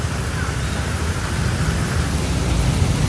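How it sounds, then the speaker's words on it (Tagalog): Heavy, relentless rain pours down by the Marikina River during a red rainfall warning in Metro Manila, a dense, loud, steady hiss of downpour with a low rumbling wash underneath and no break throughout. "Walang humpay na pagbuhos ng ulan."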